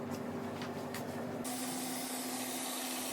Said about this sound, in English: I'm also spraying that DIY spray on the outside of my dishwashing machine